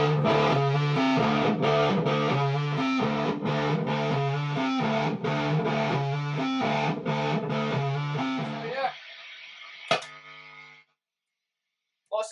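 A heavily distorted electric guitar plays loud, rhythmic chugging chords for about nine seconds, then a sustained ringing chord decays, followed by a brief struck note and near-silence.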